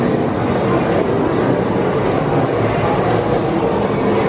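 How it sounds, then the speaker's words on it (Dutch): Rumbling train noise from inside a moving passenger train styled as the Hogwarts Express in Florida, a loud, steady roar with faint rhythmic clatter and no talking. "Je hoort ook echt die treinen, hè, Fab?"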